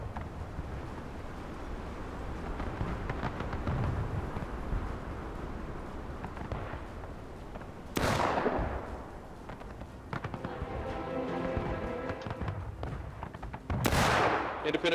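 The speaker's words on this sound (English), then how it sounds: "a lot of shooting going on by the CSA here" Confederate (CSA) troops fire muskets at a Civil War battle reenactment, with scattered distant shots rolling in a steady crackle and two louder, sharp nearby reports standing out.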